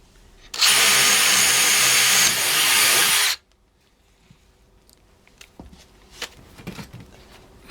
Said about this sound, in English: DeWalt DCD 796. Same bit, same wood. 2000 RPMs, full 5 amp hour battery.